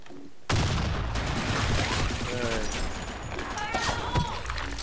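Gunfire in a competitive match of the shooter Blackshot after a snow grenade is thrown: a sudden loud onset, then dense bursts of shots and booms that keep going, with voices talking over the fighting.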